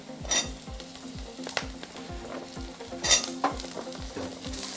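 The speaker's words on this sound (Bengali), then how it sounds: "আবারও আমি নাড়াচাড়া করে নেব কিছুক্ষণ।" Chopped potatoes and pointed gourd stir-frying in a pan: steady sizzle under repeated scraping strokes of a spatula and occasional light clinks, close and unaccompanied by talk.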